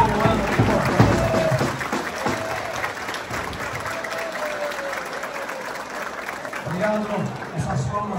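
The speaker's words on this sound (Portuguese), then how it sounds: "para nós dar uma salva de palmas a esse pessoal" Audience applause at a club parade and greeting for carnival royalty, sustained steady clapping from a crowd throughout, with a voice speaking over it near the start and end.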